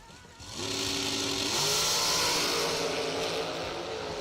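A dragster in the re-entry round at a drag strip makes a loud, close roar: the engine revs up and then holds a sustained, rising blast as the car launches and races away, with no voices.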